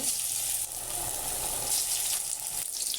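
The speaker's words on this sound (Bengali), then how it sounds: "বাকিগুলো আমি এভাবেই ভেজে নেব" Gandhabhadal leaf fritters (bora) sizzle steadily in hot oil, a continuous bright crackling hiss with small bubbling pops, close and fairly loud throughout.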